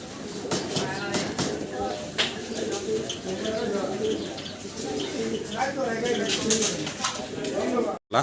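A male fancy pigeon coos in soft, repeated rolling calls, heard close but partly under a person talking throughout.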